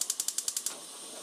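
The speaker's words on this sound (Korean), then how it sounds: "불을 켜시고요" A gas stove burner's igniter clicks about eight times in an even, rapid series, followed by a soft, steady hiss of gas, heard close up and fairly quiet.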